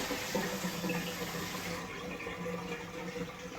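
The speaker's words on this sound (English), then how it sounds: "take the lemon myrtle and give it a good wash" Lemon myrtle leaves are rinsed in a colander under running water, giving a steady splashing hiss that eases slightly partway through, close and moderately loud.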